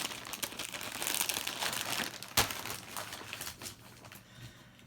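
Wrapping paper being folded and creased by hand to make a gift bag, a close, soft crinkling and rustling that swells and fades, with one sharper crackle in the middle.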